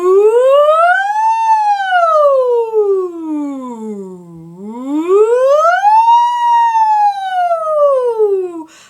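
A singer's voice imitates a siren in a head voice exercise, two long smooth glides sweeping up and down in pitch, loud and clear with no other sound.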